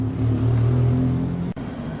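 Toyota Prius plug-in hybrid driving on its electric motor, a low steady hum and whir heard from inside the car, continuous apart from a brief dip near the end, with no talk.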